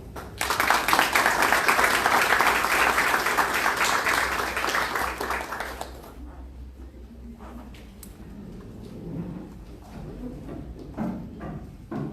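An audience at a formal legal ceremony applauds: loud, dense clapping for about six seconds, then it stops and leaves only quiet room noise and scattered small sounds.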